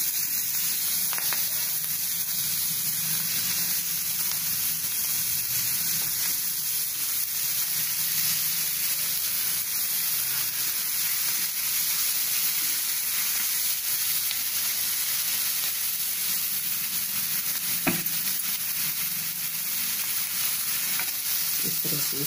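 Chilli garlic bread slices toasting in a pan over low heat, a steady close hissing sizzle that runs evenly throughout, with a single brief knock near the end and no talking.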